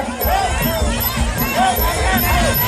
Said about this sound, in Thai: มี เสียงเชียร์ครับ